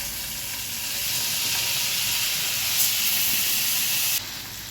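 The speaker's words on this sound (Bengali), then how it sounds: "পনিরের জন্য আমি বাটারটা দিয়ে দিলাম, হালকা ভাজবো। এবার আমি পনিরের পিসগুলো দিয়ে দিলাম।" Paneer pieces fry lightly in butter for a Bengali basanti pulao, making a steady, close hissing sizzle that suddenly falls quieter just before the end.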